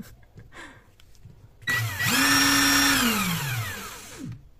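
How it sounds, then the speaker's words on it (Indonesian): A Dongcheng DCPB20 18V brushed impact wrench with carbon brushes spins up its motor after quieter handling noises, holding a loud, steady whine for about two seconds before winding down smoothly. "suara motornya halus padahal ini belum brushless masih menggunakan carbon brush"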